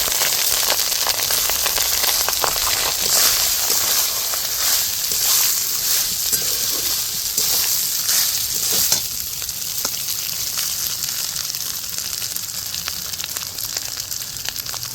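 Cooked rice being stirred into a pan with a spoonful of ginger paste for Basanti pulao, a steady close sizzle and fry hiss broken by scraping stir strokes and soft clinks, with no talking.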